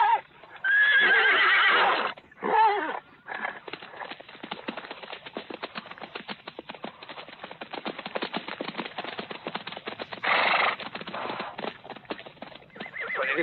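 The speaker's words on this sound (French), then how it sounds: "On vient de voler les chevaux." In a Western film scene where horses are being stolen, horses whinny loudly at the start and again later, while a steady patter of hooves clip-clops throughout.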